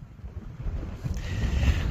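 Wind gusts on a mountain ridge buffet the microphone in low, uneven rumbles that build louder toward the end, with a faint watery wash in the background.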